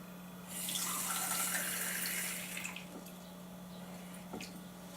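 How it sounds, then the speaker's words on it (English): Water pours from a tap into a Vivo electric egg boiler, a steady bright splashing stream lasting about two seconds before trailing off into faint drips. "So I'll put 55 mils of water in there"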